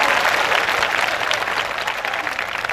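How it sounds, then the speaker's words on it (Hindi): Audience clapping at a public talk in Palamau, Jharkhand, a dense sustained round of applause from a crowd, loud and even throughout with no speech over it. "ताली बजाओ अपने आप के लिए"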